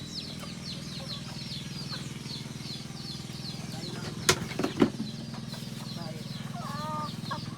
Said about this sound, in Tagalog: Ayan na sila native chicken ko lang yan. I mean, upgraded na chicken.